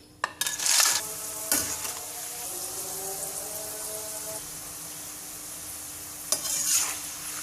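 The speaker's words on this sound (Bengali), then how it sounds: "এবার আমি আপনাদের তিন প্রকারের চিপস ভেজে দেখিয়ে দিচ্ছি মিষ্টি আলু গোল আলু আর" Sweet potato, potato and beetroot chips frying in hot oil, a steady sizzle with a few stirring and clattering bursts at the start and near the end, close and moderately loud, no talk.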